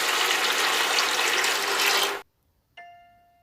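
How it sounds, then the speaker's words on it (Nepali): Water is poured into a wok sitting on an induction stove, a steady rushing splash for about two seconds that cuts off abruptly and is followed by a single ringing electronic beep. "मैले मेरो इन्डक्सन चुलालाई अन गरेर कराई बसालेँ। यसमा 1 मुठ पानी हालेँ,"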